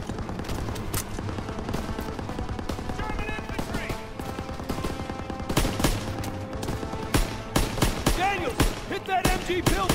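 Rapid bursts of rifle and machine-gun fire in a World War II battle from Call of Duty WW2 on PS4, dense and continuous through the stretch, with shouted in-game voices over the shooting.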